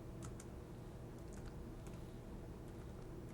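Quiet keystrokes on a computer keyboard, a handful of soft clicks in an irregular rhythm over a steady low hum while setting up a Raspberry Pi robot car.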